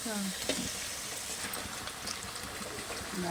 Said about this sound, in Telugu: ఇప్పుడు క్లీన్ చేసి పెట్టుకున్న చికెన్ కూడా వేసేస్తున్నారు మా అత్తయ్య.